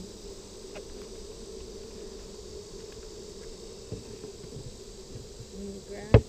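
Honeybees hum from an opened hive during an inspection, a steady close drone running throughout, with a sharp knock near the end.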